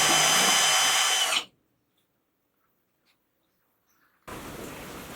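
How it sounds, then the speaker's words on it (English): Power drill spinning a stir stick through beer extract in water, a loud even whir that cuts off abruptly, leaves nearly three seconds of silence, then starts again with the same steady buzz. "we have a nice stir stick on the end of our drill here"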